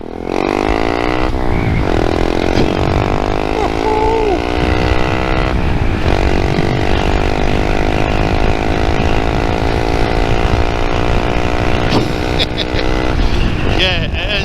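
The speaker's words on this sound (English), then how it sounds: "Let's listen to the Yoshimura." 2023 Honda Monkey 125 motorcycle fitted with a Yoshimura exhaust, riding on a long road trip across Scotland; the loud, steady engine drone holds throughout with rising and falling revs as gears change, close to the rider.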